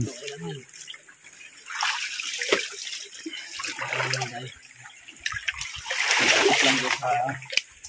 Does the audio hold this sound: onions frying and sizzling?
no